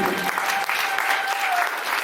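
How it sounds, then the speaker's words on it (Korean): Wedding guests applaud during a ceremony after the bride and groom bow to each other, a steady burst of clapping filling the hall for a couple of seconds. "여러분 다 박수 부탁드립니다"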